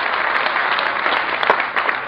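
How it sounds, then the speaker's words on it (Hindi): An audience at a Hindi poetry gathering (musayara) claps in dense, sustained applause, loud and even throughout, with a faint crowd murmur underneath. "इसको आशीर्वाद दीजिए तालियों के लिए।"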